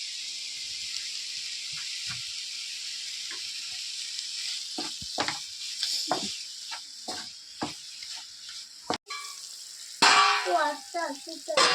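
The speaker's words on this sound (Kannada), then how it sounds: "ಒಂದೇ ಒಂದು ಟಮಾಟನ ಹೆಚ್ಚಿಟ್ಕೊಂಡಿದ್ದೀನಿ ಇವಾಗ ಅದನ್ನು ಹಾಕ್ತಾಯಿದ್ದೀನಿ ಇದಕ್ಕೆ" Chopped tomato tipped into a hot pan for mushroom biryani, loud steady sizzling and frying hiss with scattered stirring clicks, then a sharper burst of spitting as more goes in near the end.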